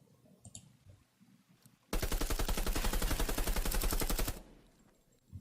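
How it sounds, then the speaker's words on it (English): Machine pistol in Fortnite Save the World letting loose a fast, steady burst of rapid gunfire that runs for about two and a half seconds, loud and sharp, with quiet game ambience before and after. "Machine pistol."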